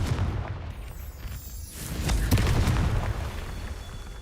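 A Confringo fire spell bursting in Hogwarts Legacy, a deep booming explosion that swells mid-clip with sharp cracks, over a rumbling low background.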